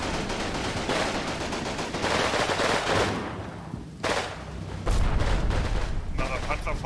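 Gunfire in the World War II game Combat Mission: Fire and Rubble, set in Pomerania in 1945, with bursts of machine-gun and rifle fire and heavier booms continuing loudly throughout.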